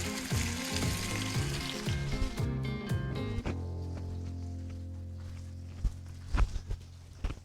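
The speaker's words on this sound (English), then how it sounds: "Set this in, let it sear." A koji rice steak sears in shimmering hot oil, a loud sizzle that softens partway through, followed by a few sharp handling knocks near the end, with no voices.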